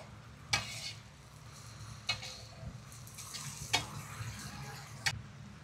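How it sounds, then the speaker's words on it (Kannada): Chopped onions frying in oil crackle softly as a utensil stirs them, with several sharp scraping clacks spaced a second or so apart over a low sizzle. "ಈರುಳ್ಳಿ ಹಾಕಿದ್ಮೇಲೆ ರಪ ಅಂತ ತಿರ್ಗಿಸೋಣ"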